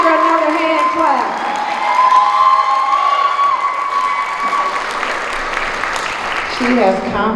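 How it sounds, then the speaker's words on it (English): Graduation ceremony audience applauding with cheers and whoops, a crowd of clapping and shouting under a voice talking at the start and end. "let's give her another hand clap."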